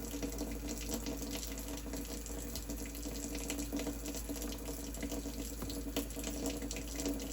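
Water runs steadily from a faucet into a kitchen sink fitted with a garbage disposal, an even hiss at constant level with no speech.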